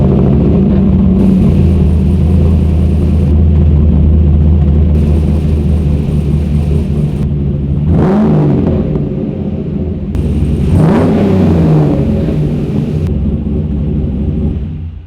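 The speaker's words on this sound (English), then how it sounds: "it has side exit exhausts, and an exhaust tone that is very undefender but absolutely epic" A 550hp LS3 V8 Land Rover Defender with side exit exhausts idles with a deep, steady rumble, then lets out two sharp throttle blips that swell and fade, close and loud with no talk.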